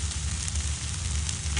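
A short stretch of onion, tomato and ginger garlic paste sautéing in a pan, heard as an even, dense hiss over a low hum, with no voices.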